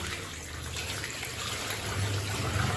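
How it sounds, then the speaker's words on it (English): Water pours steadily over a baby in a Munchkin bath, making a continuous close trickling wash with no voices. "So I'm going to be pouring some more"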